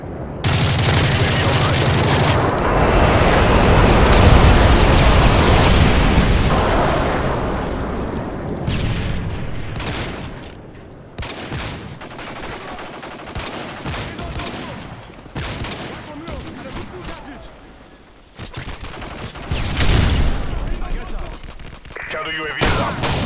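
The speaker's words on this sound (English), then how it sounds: "I just bombed them" Heavy bombing-run explosions and gunfire from Call of Duty: Modern Warfare 3, a loud sustained barrage of booms and rumbling blasts that eases into scattered shots and bursts, with game voices talking between them.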